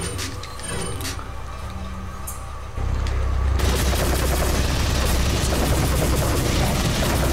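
Video game gunfire in Resident Evil 4: faint sparse shots at first, then a sudden dense, loud burst of rapid sustained firing that continues to the end.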